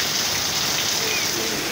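Steady afternoon rain in Santa Cruz falls as a dense, even hiss of drops, constant and moderately loud throughout with no break.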